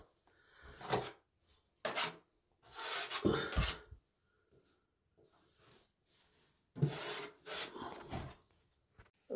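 Excess plaster being scraped off the edges of plasterboard, quiet rasping strokes in short bursts with pauses between them, close up and with no talk.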